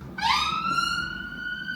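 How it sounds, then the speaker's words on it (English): A single rising siren wail sweeps up and holds, loud and clear, like an emergency vehicle siren sound effect. "The ambulance has come to save Naho from the spice"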